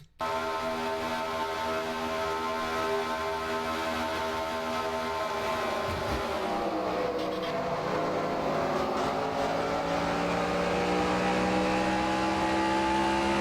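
A race car engine roars steadily from the cockpit in an American Ethanol Series sim racing game, holding a loud, sustained drone with shifting pitch through gear changes, briefly dipping before climbing again, with no talk.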